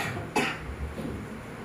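A single sharp cough, close and short, with faint room noise before and after.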